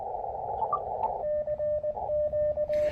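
Amateur radio receiver picking up low-level interference during an outdoor early morning activation in a park, a steady tone with rhythmic pulsing bursts and a mild growl over background hiss, no voices.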